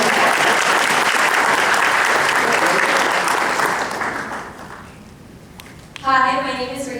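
Audience applause at a university career fair, a dense steady clapping that fades out after about four seconds, followed by a brief burst of voice near the end.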